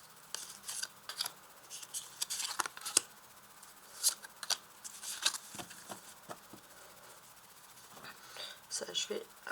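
Tarot cards being placed one by one on a table during a reading, a series of soft, close papery slaps and slides with brief pauses between them, quiet and intimate.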